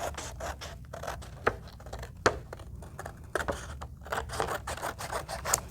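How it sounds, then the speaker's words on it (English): Scissors cutting through paper up close: a run of dry scratchy snips and rustles, fairly quiet, with a few sharper clicks along the way. "So I'll take my scissors,"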